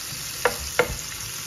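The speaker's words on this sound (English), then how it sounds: "Bacon is on fried pan and rice is boiling." Bacon frying in a pan gives a soft, steady sizzle, broken by two sharp scraping clicks of the pan being stirred, with no talking.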